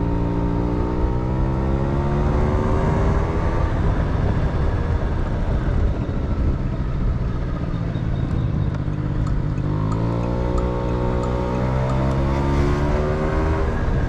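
A rebuilt 1986 Honda Spree NQ50 scooter ridden uphill, its small engine whining steadily and rising in pitch as it accelerates, then dropping and climbing again; continuous, close and fairly loud with no talk.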